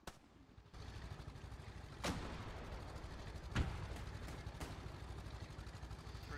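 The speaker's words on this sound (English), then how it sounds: "Open fire." Gunfire in a trench warfare video game: a few sharp, distant-sounding shots crack over a low, steady battlefield rumble.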